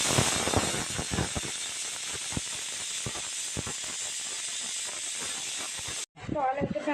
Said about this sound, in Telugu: కుక్కర్ విజిల్ వేసేస్తుంది, పప్పు ఉడుకుతుంది అనమాట